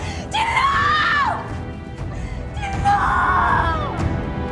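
Two long, loud, piercing screams from a person in a dark crime drama scene, each rising and falling over about a second, separated by a short pause, over a low noisy background.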